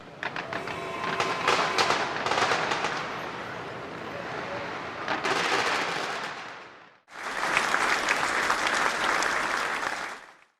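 A dense, continuous roar of crackling bursts and rumbling explosions as ammunition cooks off in a destroyed Buk missile vehicle, loud and sustained, cutting out briefly before resuming just as intense.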